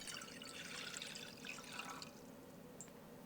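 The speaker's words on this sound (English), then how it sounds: "Simply pour the cold liquid into a tall pot," Cold liquid poured into a tall pot for making polenta, giving a steady, faint splashing and trickling stream that continues throughout without talk.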